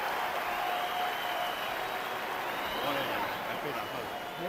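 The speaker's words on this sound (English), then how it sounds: "And there's the cheer from those in the crowd who bet the over." Spectators at a professional boxing fight cheer and applaud in a broad, sustained roar that fills the arena, with speech mixed into the crowd noise.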